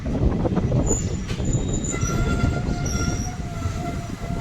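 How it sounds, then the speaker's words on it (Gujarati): A passenger train from Dhasa to Junagadh rumbles steadily along the rails with rhythmic clattering wheels and faint high squeals, loud and close as if heard from inside a carriage. "આપણી ટ્રેને સ્પીડ પણ પકડી લીધી"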